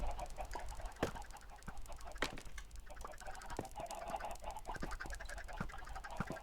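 Chickens at a chicken spawner in Minecraft give faint, scattered clucks over a low, quiet background, with no talking.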